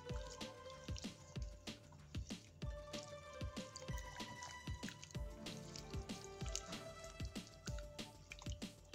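Breadfruit rinsed under water while being prepared for fries, giving a string of wet drips, splashes and squishy handling noises in an irregular, fairly quick rhythm close by, with no talking.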